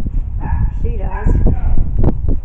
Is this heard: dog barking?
yes